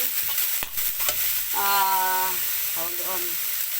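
Vegetables with fried tofu and seasoning frying in a pan, stirred with scraping clicks over a steady sizzle, while a voice speaks briefly over the cooking.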